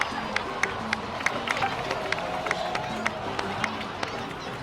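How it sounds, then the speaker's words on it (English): A crowd in Genshin Impact's Natlan claps and cheers through a game scene, a steady mass of applause with regular percussive hits from the game soundtrack layered over it. "please give another round of applause for them"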